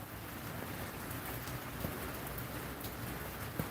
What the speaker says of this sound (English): the rain is coming down. It's not heavy